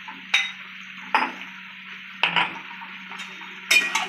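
Fried prawns being stirred into an ash gourd curry in a pan: four sharp metal clanks of a spatula against the pan, spaced about a second apart, over a steady low hiss.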